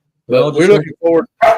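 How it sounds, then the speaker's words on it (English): Short, sharp bursts of a dog barking nearby, mixed in with someone talking over them. "I'm sorry about the dog barking."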